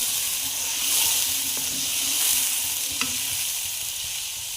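Milk hisses and sizzles as it is poured onto browned semolina in a hot pan, a steady close frying hiss with a few faint clinks and a slight swell midway.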